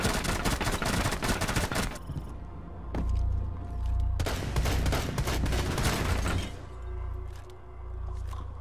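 Gunfire in Rainbow Six Siege, with dense rapid volleys in a sustained opening burst followed by several shorter clusters of shots separated by low rumbling gaps.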